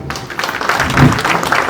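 Wedding guests applaud at an evening reception, a dense wash of clapping that swells slightly midway and continues steadily throughout, fairly close and loud.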